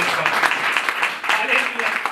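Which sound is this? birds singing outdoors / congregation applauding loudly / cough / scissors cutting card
congregation applauding loudly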